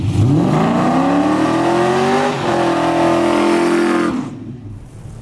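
A 1966 Chevy II Nova drag car engine revs loud and close, its pitch rising and holding in a sustained roar before dropping away near the end.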